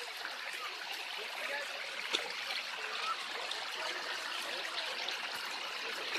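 A small stream flows steadily nearby, a soft continuous trickle and burble with no voices, quiet and even throughout.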